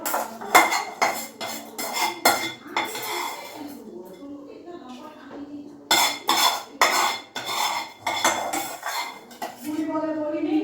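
Fried radish being lifted out of a pan in a home kitchen, with repeated loud clatters of metal utensils and dishes in bursts, a short quieter pause with faint talk, then more clinking.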